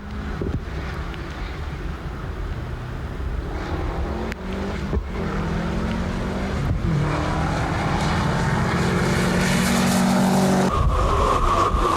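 A Spike Subaru rally car prepared by Possumbourne Motorsport charges through a special stage at Rally New Zealand 2000, its engine revving hard and climbing through gears while the tyres skid on the loose surface, loud and close, with wind buffeting.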